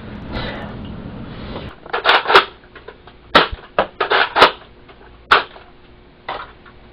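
Sharp gunshots crack out in irregular bursts, some single and some in quick clusters, loud and close against a quiet background with no talking.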